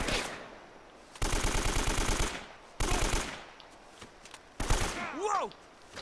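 AK rifle fire in Uncharted: Drake's Fortune comes in three loud, close bursts of rapid automatic shots separated by short pauses, followed by echoing ricochet-like whines; no talking over it.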